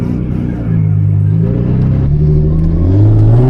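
A car engine on a drift track during a first lap, revving up and down in loud sustained sweeps that rise again near the end, with no talking over it.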